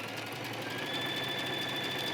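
Sewing machine running a triple stitch at stitch length 3.5 on leggings fabric, a steady fast mechanical whir and rattle held at an even, fairly quiet level throughout, with no talking.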